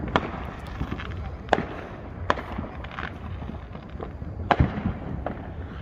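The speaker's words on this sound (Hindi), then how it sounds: "और उस तरफ भी हो रही है आतिशबाजी।" Fourth of July fireworks bursting around a residential neighborhood, a string of sharp pops and cracks at irregular intervals, some close and some distant, over a steady background rumble.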